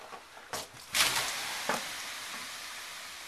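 Water splashes onto hot stones in a Finnish sauna, sending up a few quick hissing bursts of steam followed by a fading sizzle, heard close and fairly soft.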